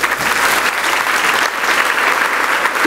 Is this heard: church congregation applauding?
yes